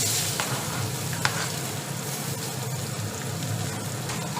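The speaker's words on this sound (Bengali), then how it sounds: "এবার এর মধ্যে দেবো হচ্ছে পেঁয়াজ কুচিগুলো দিয়ে দেবো।" Chopped onions fry in oil with a dried red chili and whole cumin, producing a close, even sizzle with a soft bubbling undertone and a sharp tap of a utensil partway through.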